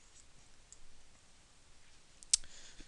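A single crisp computer mouse click sounds late in an otherwise quiet stretch, close and brief.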